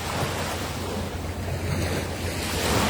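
Ocean waves wash steadily onto a beach, a loud continuous roar of surf mixed with wind buffeting the microphone, with no voices.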